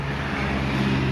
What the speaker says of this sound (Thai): รถก็เสียงดังมากนะครับ วันนี้